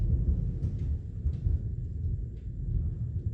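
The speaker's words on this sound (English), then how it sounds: "It's thundering outside." Low rolling thunder outside, a continuous deep rumble with no sharp crack, steady and fairly distant-sounding, heard alone without talk.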